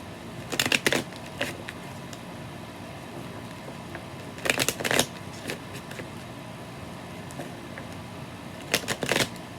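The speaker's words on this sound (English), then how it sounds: "let's cut this little deck" A small, crude tarot deck is shuffled and riffled in three quick bursts of crisp card flutter, separated by quiet pauses with only faint handling noise and no talking.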